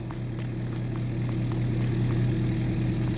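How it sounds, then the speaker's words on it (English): Kubota front loader engine idling in Farming Simulator 22, a steady low droning hum with a few faint ticks, fairly quiet and continuous without speech. "It's pretty quiet for a little front loader"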